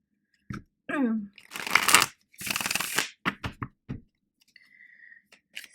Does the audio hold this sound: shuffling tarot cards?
yes